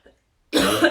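A single close, loud cough bursts out after a brief faint noise and a pause, rough and breathy, lasting about half a second, during a live business workshop presentation.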